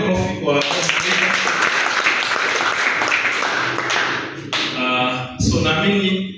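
Audience clapping at a youth guidance gathering, a dense burst of applause that swells and holds for several seconds, then briefly drops before resuming, with voices heard talking at the start and end.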